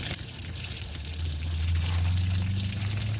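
Water drains out of an RV hot water heater, a steady pouring gush with a hissing splash that grows a little stronger partway through.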